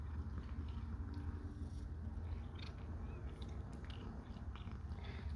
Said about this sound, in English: Can you chew your food?